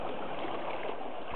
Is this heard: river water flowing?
yes